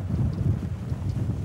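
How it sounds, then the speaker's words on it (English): Hurricane Georges winds gusting at over 200 km/h, a loud, continuous low roar and buffeting against the microphone, with no voices. "The winds here are gusting to well over 200 kilometres an hour."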